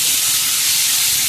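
Dal poured into a hot pan, hissing and sizzling loudly in a steady, dense crackle with no voices over it.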